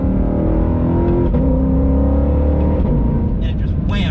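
Ford Mustang GTD pulling hard under acceleration, a loud, steady engine drone from inside the car with quick pitch drops as the transmission snaps through gears, and a voice talking over it.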